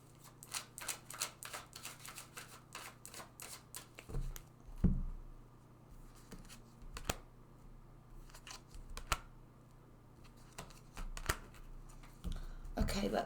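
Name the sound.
tarot cards being shuffled and drawn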